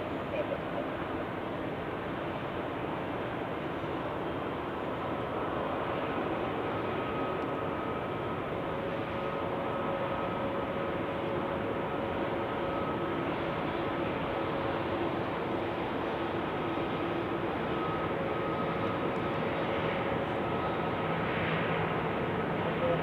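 An Icelandair airplane taking off at Zurich Airport in winter, a broad steady jet roar that holds throughout at a distance.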